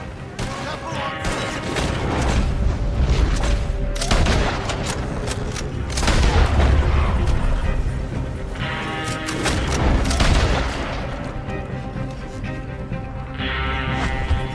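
Repeated gunfire and booming blasts from a Red Dead Redemption 2 mission shootout, loud bursts arriving in uneven clusters over a steady rumble, with voices shouting in places.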